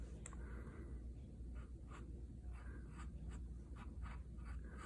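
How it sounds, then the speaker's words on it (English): An HB pencil scratches steadily across paper while shading a chrysanthemum drawing, a soft, close, continuous rasp with rhythmic strokes roughly every half second and no talking. "I'm currently working still with an HB pencil."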